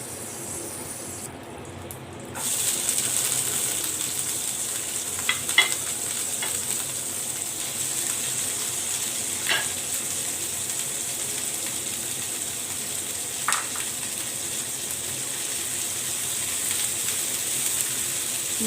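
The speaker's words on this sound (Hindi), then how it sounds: "फिर हम इसमें शिमला मिर्च और बंद गोभी को स्टिर फ्राई" Capsicum and cabbage are stir-fried in hot ghee for vegetable rice, giving a steady close sizzle that runs throughout, with occasional soft utensil taps and scrapes.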